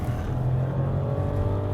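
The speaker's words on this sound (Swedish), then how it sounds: "Jag håller gasen i botten hela tiden" A VW T-Cross held at full throttle, its engine giving a steady, close, fairly loud drone with a low hum that barely changes, and no talking.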